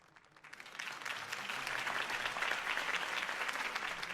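Crowd applause in Batman: The Telltale Series swells in after a brief quiet start, becoming a dense, steady roar of many hands clapping that holds loud and unbroken to the end, with no voices over it.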